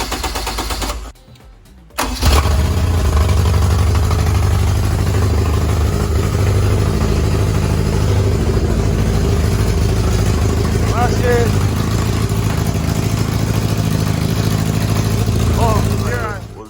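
A Honda engine fitted in a Smart car starts after a short pause and then runs loud and steady close by, a rough idle with a few brief voices over it.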